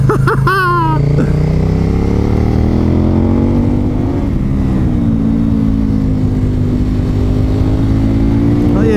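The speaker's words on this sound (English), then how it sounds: "Did I mention I love adventure bikes?" An adventure motorcycle leans through tight corners, its engine droning loud and close with a brief rev at the start, then a steady, slowly shifting pitch under constant wind roar.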